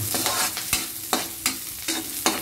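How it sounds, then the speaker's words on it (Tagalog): Garlic is sautéed in a frying pan, with a soft continuous sizzle broken by several sharp scraping stirs of a utensil against the pan, close and clear with no talking. "Igisa lang natin na yung gitado."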